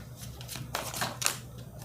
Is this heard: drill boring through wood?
no